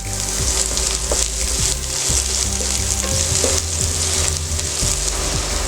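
Small onions sizzle steadily in a pan for a Maharashtrian thali, with a loud, continuous frying hiss and occasional low knocks and scrapes from stirring throughout.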